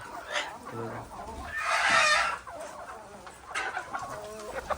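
Chickens cluck nearby in short scattered bursts, with one louder drawn-out squawk midway; quiet background talk is faintly present.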